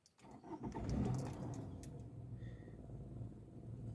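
A Toyota Avensis T25 engine cranks and catches, swelling into a brief rumbling rev before settling to a steady low idle, recorded close and fairly quiet.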